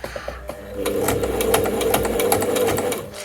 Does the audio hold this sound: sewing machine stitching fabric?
yes